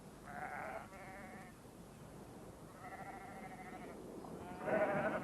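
Shetland sheep bleating while their wool is plucked by hand, with three drawn-out, wavering bleats at moderate distance separated by short pauses, the last one louder and closer.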